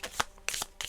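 A deck of oracle cards being shuffled up close, with several quick riffling bursts in about a second.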